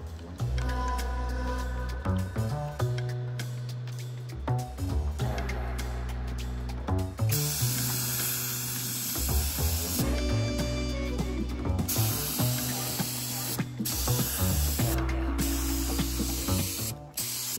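Two-part urethane satin black paint sprayed onto steel truck wheels, long hissing spray passes broken by short gaps and trigger clicks, loud and close, over a tonal background hum.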